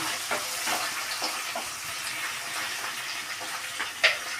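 Sliced onion, green chillies and curry leaves fry in a pan for a home-style raw banana and moong dal curry, giving a soft steady sizzle close by with faint occasional stirring clicks and no talk.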